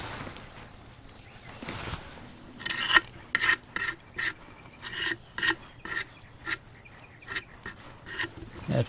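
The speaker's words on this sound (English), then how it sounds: "I'll wipe away some of the excess" A rag wipes excess filler off a wooden piece in a series of short, close scrubbing strokes with brief pauses between them, each rubbing sound quiet and dry.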